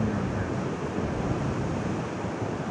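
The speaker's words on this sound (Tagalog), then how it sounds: "Malakas ng alon yun." Strong ocean surf pounds a surfing beach at Las Palmas, a steady, dense roar of breaking waves with wind buffeting the microphone throughout, loud and continuous with no voices.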